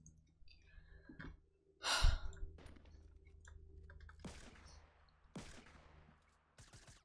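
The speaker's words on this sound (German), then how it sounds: "Von wo schießt er denn?" Gunfire in the Fortnite video game: a few sharp, separated bursts of shots at moderate loudness, spaced across quiet in-game ambience with no talk.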